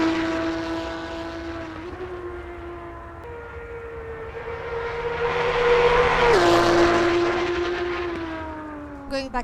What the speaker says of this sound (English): But the race cars in particular sounded awesome.